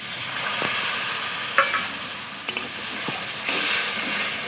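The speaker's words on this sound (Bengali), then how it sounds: "সব কিছু আবার একসঙ্গে ভালো করে কষিয়ে নেব" A pan of mustard fish curry with okra is stir-fried: a steady hiss of sizzling oil, broken by a few sharp spatula scrapes and clinks against the pan.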